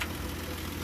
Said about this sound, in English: the old Nash is still idling